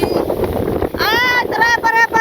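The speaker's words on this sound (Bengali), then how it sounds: "দেখেন কি বাতাস, ইস শান্তি।" Wind gusts across the microphone outdoors in a village on a hot day before rain, a steady rushing roar, with a brief tonal, voice-like sound midway.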